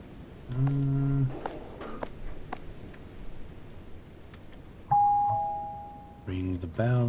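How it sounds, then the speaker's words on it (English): A doorbell in the Night Delivery video game gives a single clear electronic chime that rings and slowly fades, set among short tonal game sounds and a faint background hum. "Ring the bell."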